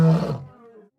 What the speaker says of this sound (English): lions roar